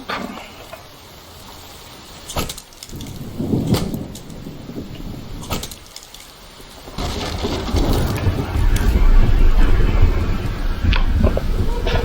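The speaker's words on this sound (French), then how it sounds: "que l'orage, on n'aura pas des orages trop souvent non plus comme dans l'ancienne mise à jour" Thunder rolls through a thunderstorm in the survival game The Infected, with a couple of sharp cracks followed by a long, loud rumble and steady rain noise.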